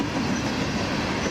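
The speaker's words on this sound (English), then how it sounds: "Goddamn train." A train rumbles past nearby in a dense, continuous roar of wheels and rail noise with no talking.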